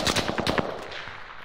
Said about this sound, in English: Gunfire will alert you to an enemy's presence